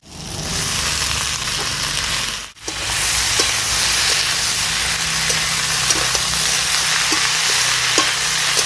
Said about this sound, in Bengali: শাকটা দিয়ে ভালো করে নেড়ে চেড়ে নিচ্ছি।